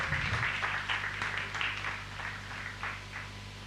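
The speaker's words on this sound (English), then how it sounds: "So a round of applause for Jewel." An audience at a live poetry performance in Ghana applauds the poet Jewel, with scattered claps fading over a few seconds above a steady low hum.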